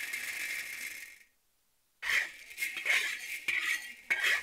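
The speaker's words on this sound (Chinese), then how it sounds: "我们就用炒菜锅炒一炒" Raw coffee beans tossed and stirred in a wok make dry, scraping and rattling clatter in close bursts, with a brief pause before the stirring resumes.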